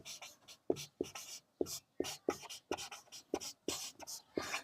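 Pen or chalk writing during a Hindi-medium class 10 maths lesson on linear equations, heard as a steady series of short scratchy strokes in quick bursts, close and fairly quiet, with no talking.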